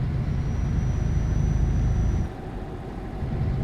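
A modded truck in a driving video game hums with a steady low engine drone that eases off near the end, loud and alone.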